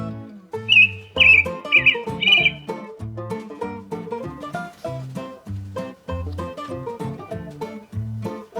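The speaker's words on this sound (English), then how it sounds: "bird" A bird chirps in a short burst of bright, repeated tweets near the start, set against a louder melodic backing tune of a children's learning piece that continues throughout.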